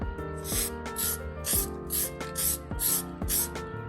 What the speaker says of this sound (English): Just make sure you keep a good distance between the spray and the area, and now let it dry.